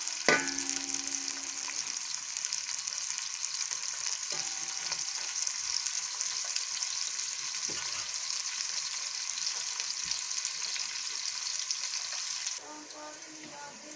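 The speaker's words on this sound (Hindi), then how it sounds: "आंच आप दरमियानी करके इसको प्याज को ब्राउन कर लेंगे।" Onions fry in a pan over medium heat until brown, giving a steady, close sizzle with a few faint clinks of stirring. The sizzle turns quieter near the end.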